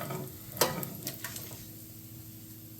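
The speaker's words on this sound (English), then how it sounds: "our bacon is nice and crispy" Bacon frying crisp in a pan gives a soft, continuous sizzle punctuated by sharp spoon or utensil clicks against the pan, fairly quiet and with no voices.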